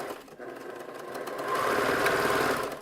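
A sewing machine back stitches fabric for 18-inch doll underwear, a steady close mechanical whirr that climbs louder and faster halfway through and then runs on evenly, with no talking.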